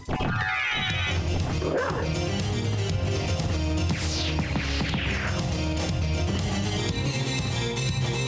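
A dog barks and yips in Castlevania: Symphony of the Night, with several quick calls standing out over steady, loud game music and effects.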